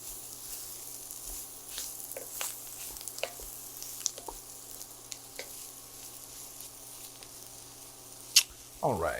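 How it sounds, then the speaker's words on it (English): A Holy Trinity of vegetables sautés in a dark toasted roux for a classic gumbo, giving a quiet, steady sizzle broken by scattered soft clicks and a few louder spoon knocks near the end. "Toasting and sauteing with that toasted roux."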